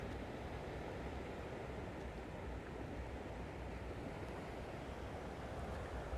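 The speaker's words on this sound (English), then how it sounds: "They're not super big waves to surf on" Ocean waves wash steadily onto the shore at low tide beside a Kona resort in Hawaii, a continuous broad surf roar mixed with wind, heard from a distance and fairly faint.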